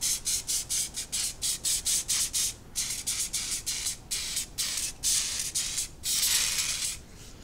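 CA glue accelerator is sprayed from a distance onto a woodturned bowl in a series of short, quiet hissing bursts with a rapid, uneven rhythm, ending in one longer spray.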